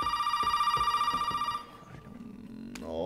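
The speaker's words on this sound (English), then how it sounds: "Where's the phone in here?" A telephone in the horror game Resident Evil 7 rings loudly with a rapid, steady trilling bell for about a second and a half, then cuts off, leaving quieter game sounds and a few clicks.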